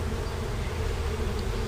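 A dense, steady buzz of many bees swarming close by, continuous with no pauses and no voices.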